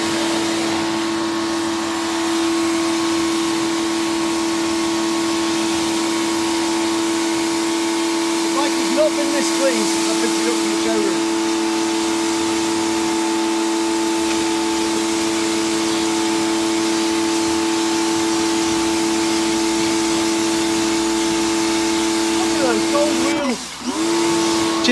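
Muc Off pressure washer spraying a motorcycle, a steady loud hiss and pump drone running the full length with slight shifts as the spray moves, and a brief disturbance near the end.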